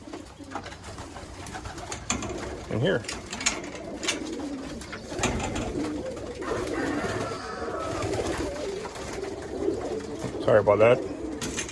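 Breeder pigeons coo in a loft, with soft repeated cooing and wing and movement noise around them while someone talks over it nearby.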